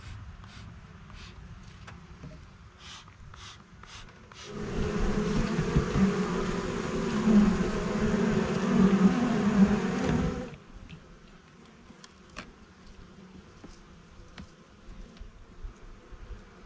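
Honey bees buzz in a hive, the dense drone swelling loud for several seconds and then dropping back to a faint hum with light clicks around it.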